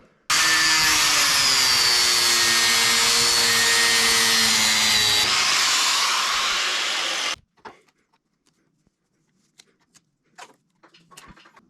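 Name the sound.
cutting Bronco exhaust heat shield sleeve with cutting tool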